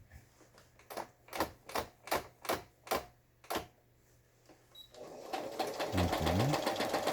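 A Brother household sewing machine, about 27 years old, stitches in quick bursts of loud, regular rhythmic clatter, then runs into a denser, continuous mechanical whir near the end.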